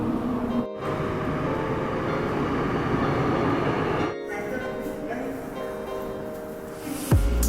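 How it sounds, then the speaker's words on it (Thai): A subway train arriving in Korea rumbles loudly nearby with a steady roar of motors and rails, briefly dropping out twice before the noise eases as it slows. "ตอนนี้รถไฟมาแล้วนะคะ"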